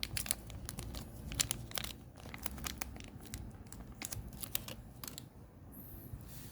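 Packaging for a genuine spare intake valve rocker arm for a GX35 grass trimmer engine being torn and unwrapped, with close, crisp crinkling and rapid tearing bursts alone in a quiet room.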